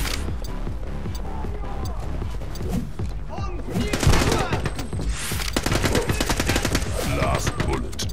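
Rapid automatic gunfire and single shots from the shooting video game The Club, dense bursts and cracks, loud and near, running almost without pause, with a voice talking over it.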